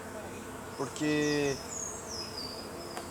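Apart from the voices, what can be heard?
buzzing swarm of bees at a hive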